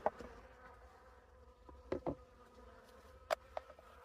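Honey bees buzzing around a hive during feeding with a sugar syrup cone feeder, a faint continuous hum with a few brief louder passes close by, no talk.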